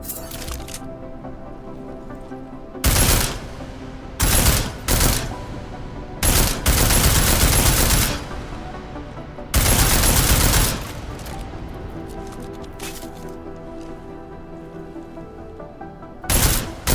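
Gunfire in the video game Deus Ex: Mankind Divided, loud bursts of automatic rounds fired against an armored target, several separate volleys with quiet gaps between them.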